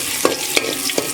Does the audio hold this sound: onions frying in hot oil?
yes